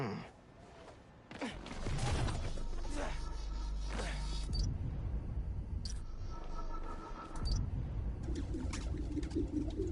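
Pigeons cooing in a city park in the Spider-Man game, a soft low murmuring flock sound with scattered wing flutters and rustles, steady and close throughout.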